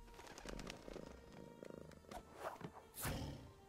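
A video game cat emote for the Black Panther character gives a faint, low rumbling purr with soft thumps, quiet and brief.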